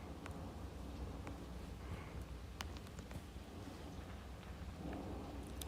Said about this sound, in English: And this is mainly just this is mainly just rain and thunderstorms.